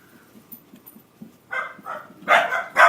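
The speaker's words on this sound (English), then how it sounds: "you can hear my dogs kicking off there" Several dogs bark in bursts from a distance, growing louder and more agitated toward the end, after a quiet stretch at the start.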